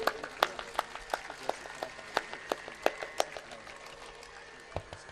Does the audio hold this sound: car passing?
no